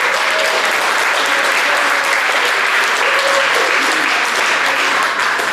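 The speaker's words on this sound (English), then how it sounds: "Give your bosses a big round of applause." Loud, sustained applause from an audience at an event honouring company bosses, dense clapping filling the room steadily from start to finish.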